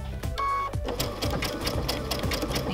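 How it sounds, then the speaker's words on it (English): A sewing machine stitches raw edge applique, turning a corner with in-and-out stitches, its rapid needle clatter running steadily and close throughout with a brief pause near the start. "To sew a corner, stitch to the corner, and then sew in and out,"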